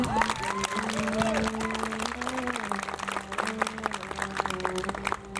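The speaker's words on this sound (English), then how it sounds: "Please join me in a round of applause." A crowd applauds at the Maine Lobster Festival Sea Goddess coronation, dense clapping running steadily throughout, mixed with a sustained tone and some voices underneath.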